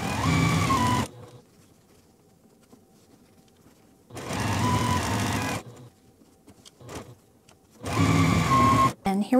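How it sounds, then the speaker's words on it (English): Domestic sewing machine stitching a quarter-inch seam on a quilt block, heard in three loud bursts of steady whirring, each a second or two long, separated by near-silent pauses. "We're gonna take this over to our machine and just sew 1/4 inch."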